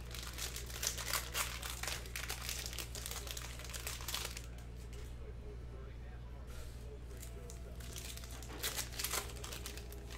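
A trading card pack wrapper from 2019-20 Panini Mosaic Basketball crinkles and tears open close by, with dense rustling bursts broken by a short quiet stretch. A voice talks faintly underneath.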